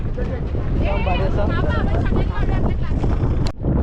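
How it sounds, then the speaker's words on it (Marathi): Strong wind in Ratnagiri buffets the microphone in a constant low roar, with voices talking over it and a brief dip near the end. "मस्त इकडे वारा सुटलाय."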